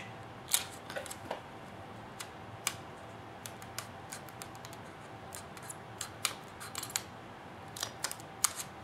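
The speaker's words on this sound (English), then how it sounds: "We'll use a standard hole punch." A standard hole punch cuts through Scotch tape during a Tamiya RC Freightliner Cascadia model truck build, giving several faint, sharp clicks and snaps scattered irregularly across a quiet background with no talking.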